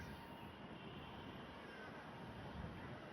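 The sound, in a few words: airplane flying in the distance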